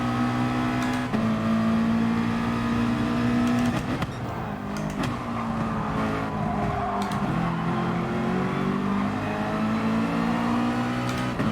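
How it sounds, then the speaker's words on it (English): Race car engine in the GT Sport racing game at the Barcelona circuit, a steady loud drone with pitch steps as it upshifts through the gears, continuous throughout with no talk. "Definitely have to upshift in third right there."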